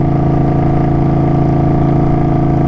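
An Indian Scout Bobber motorcycle engine rumbles loudly and close while riding, a steady, deep throbbing drone with even pulsing and no pauses.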